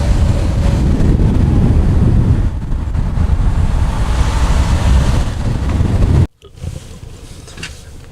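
Ocean surf roars beneath a cliffside cabin in New Zealand, loud and continuous with heavy wind buffeting, then cutting abruptly to a quieter distant wash near the end.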